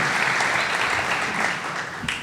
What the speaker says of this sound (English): Let's have a clap for that one